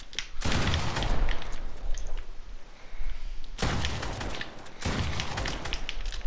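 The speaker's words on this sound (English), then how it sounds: "He's spamming bombs." Bombs explode repeatedly in a video game, making dense, loud bursts of crackling blasts in two long waves separated by a brief lull.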